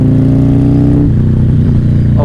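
A Harley-Davidson cruiser motorcycle accelerates hard: a loud, close engine roar climbs in pitch, drops briefly at a gear change, then climbs again with no talking.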